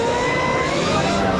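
A motorcycle engine runs loud and steady at a motorcycle show in Vancouver, a sustained, jet-like droning whine that holds even without breaks.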